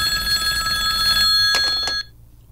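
A telephone rings with a loud, steady bell tone that stops abruptly, followed by near silence.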